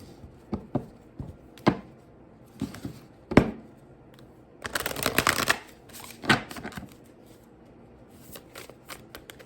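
Alice in Wonderland oracle cards being shuffled by hand, a series of soft riffling and slapping bursts, some short taps and a longer flurry of shuffling in the middle, close and with no talking.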